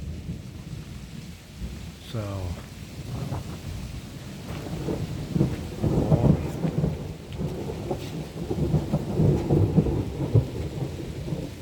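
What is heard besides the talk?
thunder and rain on the Yucatan Peninsula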